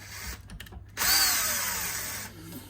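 A cordless power screwdriver whirs steadily for over a second while working on a Yamaha Pacifica guitar. The sound is close and fairly loud, and soft handling noises come before it.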